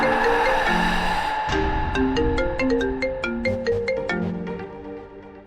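A phone ringtone plays as a melodic electronic tune over a dramatic music bed, steady and prominent, with chiming notes repeating for several seconds.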